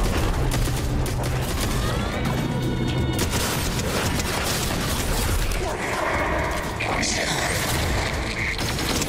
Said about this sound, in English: She has a mini gun.